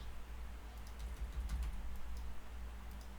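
Light, faint taps on a computer keyboard come in a short burst of several keystrokes over a low steady hum, with no voice.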